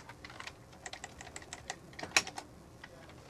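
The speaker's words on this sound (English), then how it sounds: "You can do that by typing into your magical button board." Keyboard typing in a llama adventure video game, a quiet, close run of quick uneven key taps with a few sharper clicks, no voices.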